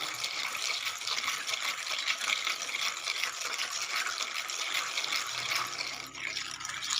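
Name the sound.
adding water to salt and stirring with a spoon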